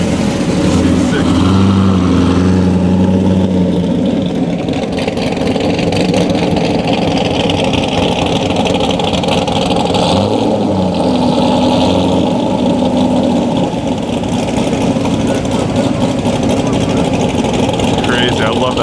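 A 2022 Nissan 400Z sports car idles on a public street with a steady, deep rumble that stays loud and constant throughout, with occasional voices under it.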